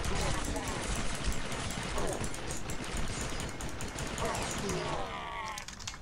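Rapid, sustained automatic gunfire from weapons in Red Faction 2, a dense clattering barrage running throughout with a voice audible over it.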